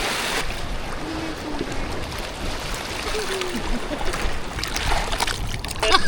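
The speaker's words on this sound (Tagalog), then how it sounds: "Talakas ang alon" Strong sea waves churn and splash around a small boat off Siquijor, a steady, loud wash of water with brief voices faintly mixed in.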